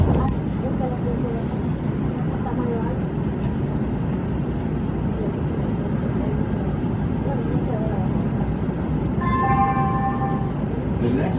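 Los Angeles Metro A Line light-rail train riding, a continuous low rumble and rattle of the car in motion with a brief high squeal near the end, while people talk over it.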